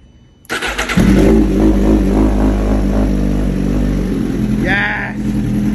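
A Suzuki GSX-R 1000 motorcycle engine cranks and catches, then holds a loud, rough, steady idle up close, with a brief excited voice heard partway through.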